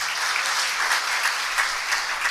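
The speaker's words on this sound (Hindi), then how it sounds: "आइए एक बार जोरदार ताली बजाएं परमेश्वर के लिए।" Congregation clapping loudly and steadily in church during a Hindi-language worship service, a dense, continuous wash of applause with no voices over it.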